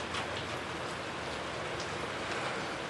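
Steady heavy rain pours down in a continuous, dense hiss with scattered drop patters, loud and even throughout with no voices.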